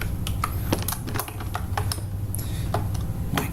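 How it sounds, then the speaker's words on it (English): Someone types on a computer keyboard while coding in JavaScript, a close series of irregular, crisp key clicks and taps over a few seconds, with no talking. "My keyboard is not the best keyboard in the world."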